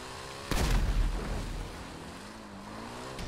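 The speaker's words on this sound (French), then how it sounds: "Donc tu fonces dans des trucs et ça explose." Explosives blow up in a motorbike video game set across rooftops: one sharp, loud blast with a rolling rumble that decays over a second or two, over a steady low engine drone.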